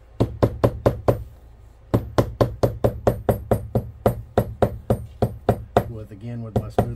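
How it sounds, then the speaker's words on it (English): A smooth face hammer flattening stitches on a leather belt, a close series of sharp, evenly spaced knocks in two runs separated by a short pause, with a voice speaking near the end. "Again with my smooth face hammer."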